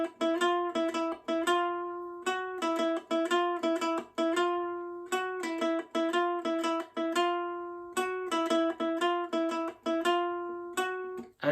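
Ukulele playing a later section of a wrestling theme, steady repeated strummed chord hits in a driving rhythm with brief gaps between phrases, close-miked, unaccompanied and free of talk.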